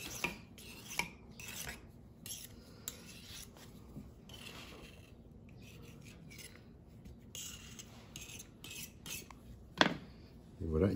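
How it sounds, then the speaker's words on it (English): A knife scrapes and rasps along the rim of a lemon tart tin, trimming away excess pastry with quiet, steady cutting strokes, closing with a couple of sharper knocks. "And with the knife, you cut the extra on the top."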